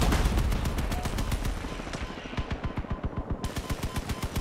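Rapid bursts of automatic weapon fire from vehicle guns in the combat game Crossout, loud and close, settling into a steady, evenly spaced stream of sharp shots.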